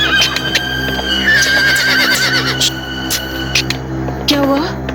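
A horse in a Hindi TV drama whinnies loudly and repeatedly, refusing to move forward, with a steady hum underneath and a final rising neigh near the end.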